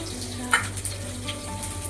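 Onion frying in a pan for a home fish curry, a close, steady crackling sizzle with a brief sharper spatter early on and a low hum underneath.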